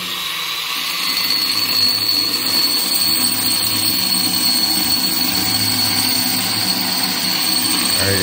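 A power drill spins steadily while boring a hole during a bowl sink and faucet install at a beach house build, a continuous whining hum held over several seconds with a faint voice in the background.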